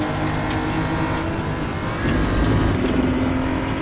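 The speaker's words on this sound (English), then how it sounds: "You can just hear the engine popping and you're jumping over the curb there." BMW M240i race car in the RaceRoom racing game, engine droning loudly and steadily throughout, with crackling pops as the driver shifts down a gear and bounces over a curb.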